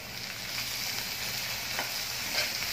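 Chopped capsicum being stirred into chilli corn frying in a pan, a steady close sizzle with faint scraping of the spoon, no talking.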